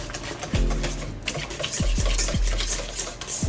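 Whisk stirring lemon icebox pie filling in a bowl, a close, busy wet scraping and sloshing with a few low thuds, no one speaking over it.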